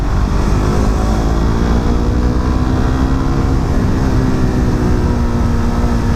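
Suzuki GSX 150 Bandit motorcycle engine revving hard and steadily, a loud, close, continuous high-rpm drone with a rising harmonic whine, no talking.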